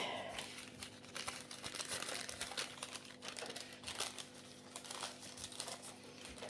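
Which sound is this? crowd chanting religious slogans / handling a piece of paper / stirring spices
handling a piece of paper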